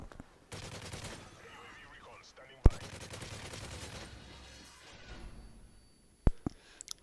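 MP5 submachine gun fire in Modern Warfare 3, heard as two sustained rapid bursts with a sharp crack between them, then scattered single shots near the end, with faint talk underneath.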